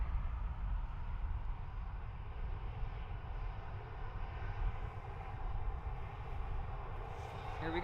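A Ryanair airliner waits for clearance at Dublin Airport, its engines giving a faint, steady, low rumble and hum that holds even for the whole stretch.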